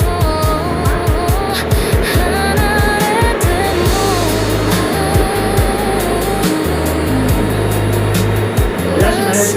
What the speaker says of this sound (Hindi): एक मीटर ऊंचे रास्ते पर हमारी गाड़ी फराटे बनती गुजर रही थी।